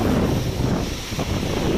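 Strong gusts of Cyclone Amphan in Odisha, a storm powerful enough to topple trees, roar as a loud, continuous rush of wind buffeting the microphone.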